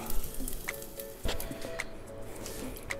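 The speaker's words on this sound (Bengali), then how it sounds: "যদি আমরা এটাকে একটু ভেজে নেই তেলের মধ্যে, তাহলে চিকেনটা রেডি হয়ে যাবে।" Chicken stuffing fries in oil at medium-low heat, giving a light crackling sizzle with scattered sharp ticks and pops close by and no voices.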